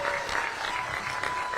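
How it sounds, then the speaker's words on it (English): Audience applause for Tony Schiavone during a live stream, a steady crackle of many hands clapping that holds at even strength through the whole short moment. "Round of applause for Tony Schiavone, ladies and gentlemen"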